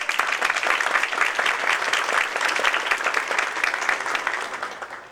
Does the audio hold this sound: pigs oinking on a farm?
no